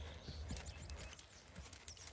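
Faint, rhythmic hoofbeats of a Missouri Fox Trotter horse moving at a flat walk, soft repeated thuds with no talk over them.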